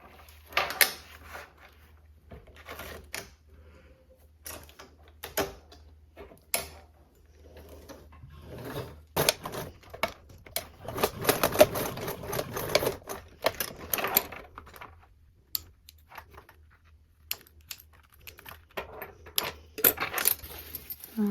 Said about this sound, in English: And again, I'm going to stitch on these.